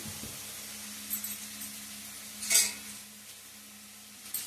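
Small pieces of chopped medium onion frying in a little oil in a pan, a soft continuous sizzle with a few light clinks of a spoon stirring and one brief scrape, no talking.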